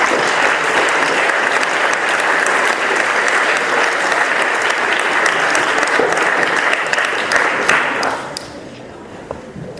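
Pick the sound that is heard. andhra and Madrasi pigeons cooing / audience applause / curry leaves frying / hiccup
audience applause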